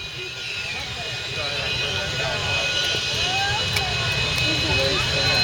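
A Harrier jet fighter's engine roars at takeoff thrust, a loud sustained rushing drone with high whining tones that builds slightly, heard at a distance outdoors.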